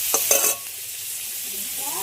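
Googly snails fried in oil in a pan, stirred with a few quick scraping strokes early on, then a steady soft sizzle carrying on alone, close by.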